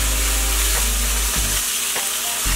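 Tofu sizzles loudly in a hot pan for a stir fry with broccoli, a steady dense hiss broken by a few scraping pushes of a spatula moving the pieces around.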